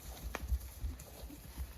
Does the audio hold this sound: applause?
no